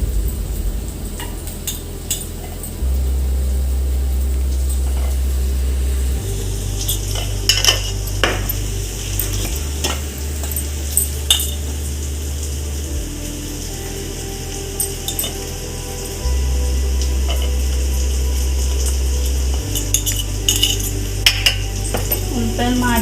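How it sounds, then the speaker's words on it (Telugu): Onions frying in a pan for an egg cake masala curry, a soft continuous sizzle with repeated clinks and scrapes of a spoon stirring against the metal pan, over a low background hum that shifts in steps. "ఉల్లిపాయలు బాగా వేగిపోయినాయి"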